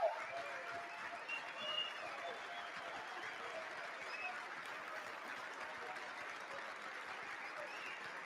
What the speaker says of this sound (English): At this point, everybody's clapping.